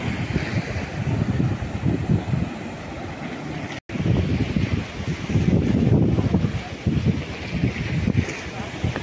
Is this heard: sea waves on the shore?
yes